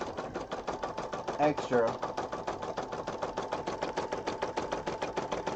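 An embroidery machine sews out a design on paper with a steady, rapid needle stitching rhythm up close, while a voice talks over it.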